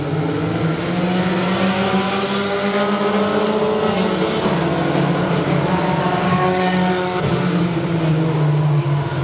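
Race cars roaring around the oval at Saratoga Speedway, a dense pack of engines droning and shifting pitch continuously, loud and sustained with no talk over it.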